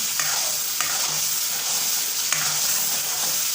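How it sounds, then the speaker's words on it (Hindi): Mutton karahi fries over a full flame with a loud, continuous sizzle, while a few metallic stirring scrapes cut in at intervals. "देखिए, मैं फुल आंच पे भून रही हूँ"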